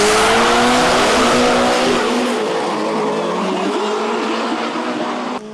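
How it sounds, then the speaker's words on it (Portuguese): Drag racing cars roar down a Brazilian drag racing championship strip in Campo Grande, loud engine howl with rising revs and tire noise filling the whole stretch, fading slightly toward the end. "Quarenta carros disputando o melhor tempo na pista."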